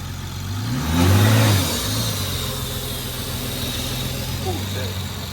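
A BMW 340i engine revs up once and settles into a steady idle with a ticking injector chatter, as someone talks over it.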